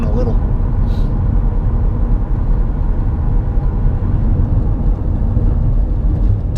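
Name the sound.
car engine groaning during a 0-60 mph run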